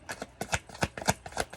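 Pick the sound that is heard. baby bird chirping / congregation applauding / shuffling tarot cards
shuffling tarot cards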